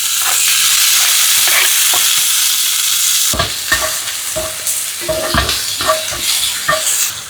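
Onion, ginger, garlic, green chilli and tomato sauté in a hot pan for a stuffed squid dish, a loud sizzle broken by a run of sharp scraping stirs.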